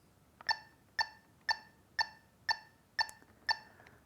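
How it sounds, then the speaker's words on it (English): A metronome set to 120 BPM ticks seven times at an even half-second pulse, each tick a sharp, clean, bright click standing alone against near silence. "I suggest you consult a metronome, such as this one, which is already set at 120 BPM"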